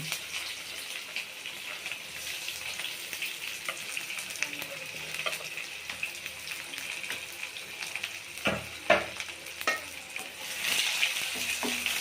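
Onions sizzle steadily in hot oil in a pan while cooking chicken liver curry, a continuous close frying hiss with a few sharper crackles and stirring knocks near the end.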